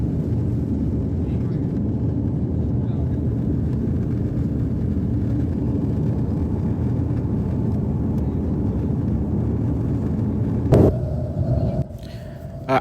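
Airplane engines roar in a steady, loud, low rumble that fills the cabin as the plane climbs after takeoff, easing off near the end after a brief clunk.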